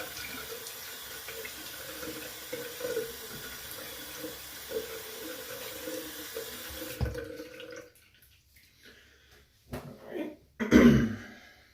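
Bathroom water tap running steadily into a sink for several seconds, then shutting off, followed by brief splashes as water is cupped to wet a face before shaving, with a throat clearing nearby.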